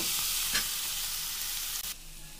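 A vegetable curry stirred in a hot pan, a bright steady sizzle with a soft scrape or knock partway through, close by, before the frying noise drops noticeably quieter near the end.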